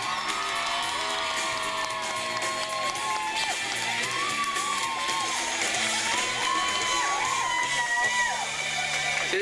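A live-music audience at the Tiehua Village venue cheers and whoops in a continuous, fairly loud wash of crowd noise, with individual shouts and voices rising above it.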